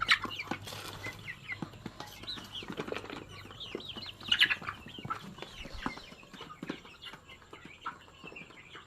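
Chickens being raised for meat peck at mixed dry feed, with rapid tapping pecks, soft clucks and chirps, and occasional wing flutters close by.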